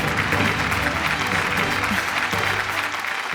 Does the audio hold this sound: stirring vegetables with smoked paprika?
no